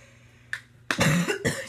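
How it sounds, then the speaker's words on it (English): A person with a lingering cough lets out a small throat sound, then two loud, close coughs in quick succession, with no speech around them. "I have a cough for some reason"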